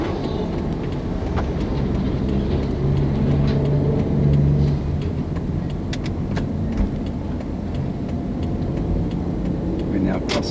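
Trucks roll through the South Road and Port Road intersection near the Queen Street level crossing, a continuous loud rumble of engines and tyres with a low drone swelling mid-way, while a person talks over the traffic.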